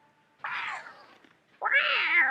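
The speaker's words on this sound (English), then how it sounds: "That sounded like a cat." A cat meows twice in the zombie video game Project Lazarus, a short mew followed by a longer, drawn-out wavering meow, close and clear with no talking.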